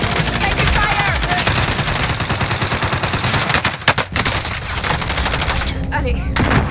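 Dense bursts of automatic gunfire from Call of Duty Modern Warfare rattle continuously, with a few sharper, louder cracks near the middle before the shooting thins out at the end.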